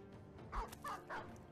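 A dog in the Battle Brothers video game gives a few short, yipping barks in quick succession, fairly faint and with no talk over them.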